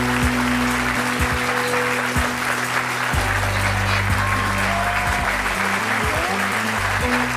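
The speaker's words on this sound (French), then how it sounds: "je vous demande de les applaudir" A television talk-show studio audience applauds steadily as guests are brought on, a dense, sustained wash of clapping with some low background tones and brief voices underneath.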